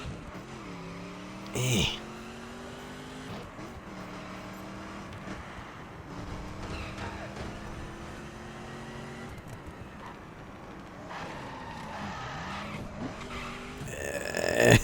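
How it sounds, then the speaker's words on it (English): A drift car in a video game, its engine droning and rising in pitch through gear changes while tires skid, with a brief voice sound early on. "there's no way to really just cruise with a drift car"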